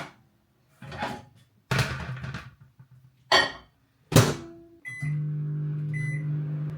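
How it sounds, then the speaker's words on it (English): A microwave oven heating milk: a few clunks and beeps as the door shuts and buttons are pressed, then a steady low running hum with a faint tone. "Put it in the microwave."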